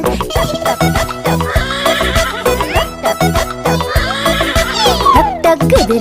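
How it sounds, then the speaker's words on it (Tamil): A horse whinnies twice over a bouncy children's rhyme tune, with rhythmic hoof clip-clops keeping time beneath the music, loud and up front. "டக் டக் குதிரையை செல் செல் செல். கனைக்கும் குதிரையை செல் செல் செல்."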